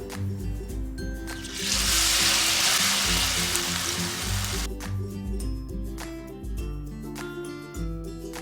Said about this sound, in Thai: ต่อมาก็ตั้งกระทะนะคะใส่น้ำมันให้ร้อน ทีนี้เราก็จะใส่ชะอมของเราที่ชุบแป้งไว้ลงไปค่ะ